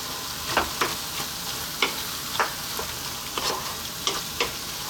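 Canned tomatoes and tomato paste are stirred through a sizzling pan for moussaka. A steady fry hiss runs throughout, broken by irregular scraping strokes of the spoon against the pan, with no talking.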